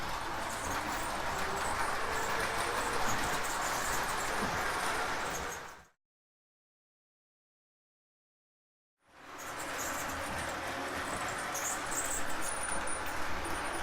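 O-gauge model trains run along a layout's track with a continuous rattling rumble, cut off by a few seconds of silence before the rolling clatter resumes at a similar level.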